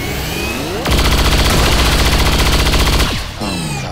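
Automatic weapon fire in the video game XCOM 2, a loud, continuous rapid burst of shots lasting about two seconds, set between softer game sound effects.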